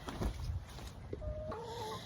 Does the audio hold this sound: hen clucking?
yes